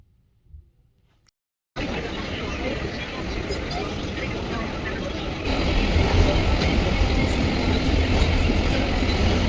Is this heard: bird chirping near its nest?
no